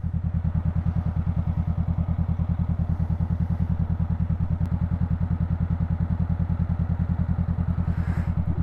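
A 2019 Honda CBR500R runs under way, its parallel-twin engine throbbing in a fast, even, steady pulse with a low, close rumble and wind noise above it, no speech.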